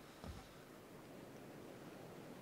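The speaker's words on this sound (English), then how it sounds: "I want you to take notice of the ocean waves" Small ocean waves seen from a sailboat, a steady low wash of surf and wind noise with one brief louder swell near the start.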